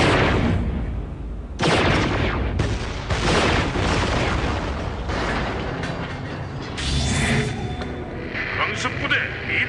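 Terran siege tanks in StarCraft II pound Immortal units with a steady barrage of heavy booming shots and mechanical clatter, loud and continuous over ten seconds, with speech mixed in.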